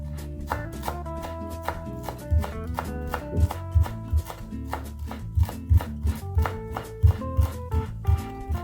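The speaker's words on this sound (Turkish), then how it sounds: "İncecik doğruyorum dereotumu." A knife finely chops fresh dill on a board, making quick, irregular taps that build into a steady rhythm over background music.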